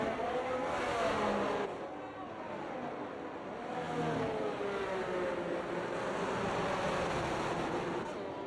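Race cars lap the Singapore Grand Prix night circuit at reduced speed behind a safety car in a racing video game, engine notes rising and falling in a steady drone with faint, distant tones.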